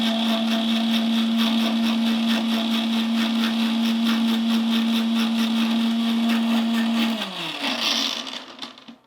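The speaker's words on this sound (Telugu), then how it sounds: "వాటర్ వేసేసుకొని దీన్ని మిక్సీ పట్టేసుకోవాలి." A kitchen mixer grinder blends ginger with a little water for kiwi juice, its motor running with a loud, steady whine for about seven seconds before winding down and stopping.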